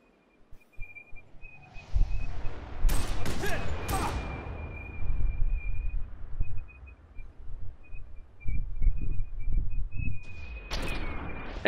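Gunfire in the video game Fear 3 comes in loud close bursts of shots with heavy booms, broken by quieter stretches under a thin steady whistle, and a burst returns at the end.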